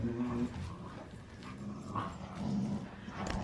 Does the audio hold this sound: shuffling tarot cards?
no